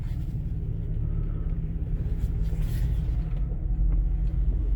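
A 2016 Jeep Wrangler rolls forward up a driveway, its engine a steady low rumble close by with faint creaks and mechanical rattles over the top.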